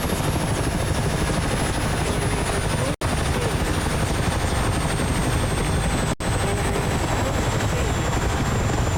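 A helicopter in the Daredevil Birds video game roars continuously, a loud, dense rotor and engine drone close up, broken by two instant dropouts, with no talking.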